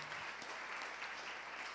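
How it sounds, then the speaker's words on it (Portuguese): A congregation applauds during a church service, with a soft, even patter of many hands clapping at a distance throughout the short stretch. "Você pode aplaudir o Senhor, meu amado."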